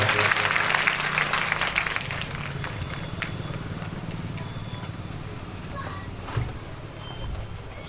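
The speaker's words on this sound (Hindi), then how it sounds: "एक बार जोरदार तालियां, जोरदार तालियां।" Audience applause at a Srimad Bhagwat Katha gathering in Agra, dense clapping loudest at the start, then thinning into a lighter patter under background noise.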